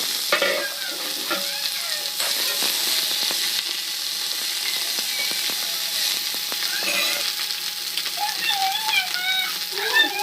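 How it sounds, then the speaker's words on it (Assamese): Onions browned in a pan are joined by meteka (water hyacinth) greens for a meteka and potato curry. They give a steady, loud oil sizzle with stirring scrapes and clatter throughout, and a faint voice is heard near the end. "ৰঙচুৱা হোৱাৰ পিছত মই এতিয়া মেটেকা শাকখিনি দিছোঁ"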